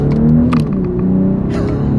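A BMW X6 SUV accelerates hard from first gear on a straight road, its engine droning and rising steadily with quick paddle-shifted gear changes; the engine note stays loud and close throughout.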